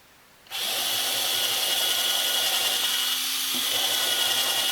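A power drill drives screws to fasten a live edge wooden table top onto its supports, a steady loud motor whine that starts abruptly and runs continuously, with a brief dip in pitch near the end.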